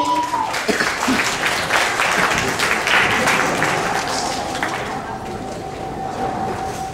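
Audience applause at a church youth fellowship Christmas evening show, welcoming the next performance: dense, steady clapping from a crowd that tapers slightly toward the end, with a faint voice or tone underneath.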